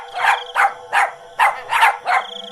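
A dog barks in a rapid series of six sharp barks in an animated Hindi story about a child on a railway track, loud and close with no talk.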